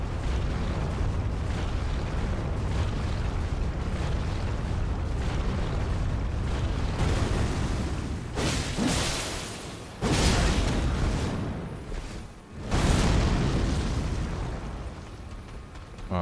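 A boss's big fiery explosion attack in Elden Ring unleashes a long roar of blasts and bursting flames, swelling into several heavy eruptions with short gaps between them.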